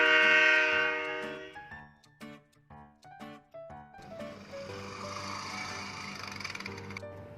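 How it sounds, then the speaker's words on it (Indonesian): A train horn sounds in a loud, sustained blast that fades out. Short tonal notes follow, then a steadier rising wash of sound. "Train, train,"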